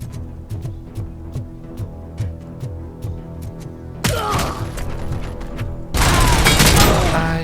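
Gunfire in RoboCop: Rogue City: rhythmic mechanical thumps give way to louder bursts of shots, with a harsh, dense volley near the end, close and prominent.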